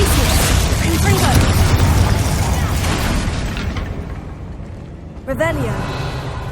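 Fiery blast of the Confringo spell in Hogwarts Legacy: a booming, crackling burst amid busy combat noise, with a sharp explosive pop near the end.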